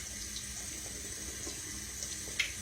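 Very hot water runs steadily from a kitchen sink tap while dishes are rinsed beneath it, a continuous close hiss with a few faint clinks near the end.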